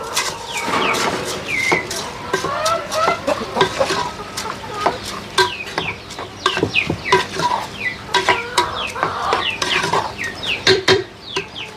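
Backyard chickens at a small home farm cluck and squawk in repeated short bursts while feed is stirred, with scraping and clinking of a utensil against a container close by.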